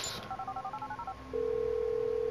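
A mobile phone dials in Grand Theft Auto V, giving a quick run of about a dozen keypad tones followed by a steady ringing tone.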